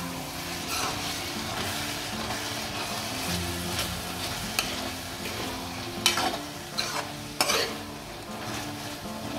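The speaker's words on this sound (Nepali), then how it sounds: "घिरिमलाई घोट्दै गर्नुपर्छ।" Sponge gourd cooking in ghee in a pan for a Nepali Teej festival dish, a steady sizzle with scattered scraping stir strokes and a few sharper clanks, over a faint tonal background.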